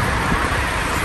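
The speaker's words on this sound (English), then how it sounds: "And now I'm going to take you for a test drive." Audi TT RS sports car with 400 hp on a test drive, a loud steady broadband engine and road roar heard from inside the cabin, constant throughout with no talk.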